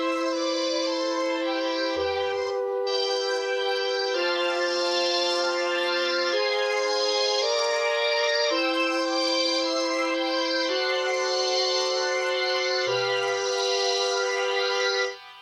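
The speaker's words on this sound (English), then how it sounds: "a Krumar multi-man string synthesizer and Hainbach's Giallo strings, sorry if I've mispronounced that, running through a phaser for a really 70s sound, along with the stock Mellotron flutes" A Krumar multi-man string synthesizer layered with Giallo strings runs through a phaser for a 70s sound, its swirling sweeps steady and lush under Mellotron flutes, playing sustained chords with no talking until a sudden cutoff.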